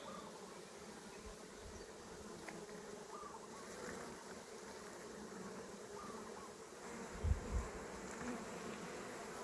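Honeybees hum in a steady, moderately loud drone around a hive opened up for comb removal, with a few brief low knocks partway through.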